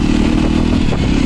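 A Jawa Classic 300 BS6 motorcycle rides along close by with a continuous, rough engine drone and some rattling clatter, with no talk over it.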